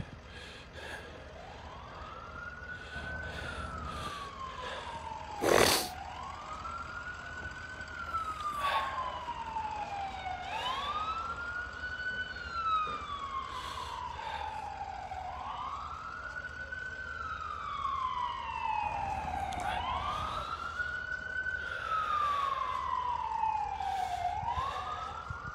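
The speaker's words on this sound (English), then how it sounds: "We have an ambulance coming around to this side" An ambulance siren wails at a historic building fire in Princeton, rising and falling cycles repeating steadily at moderate distance and slowly growing louder, with a sharp thump partway through.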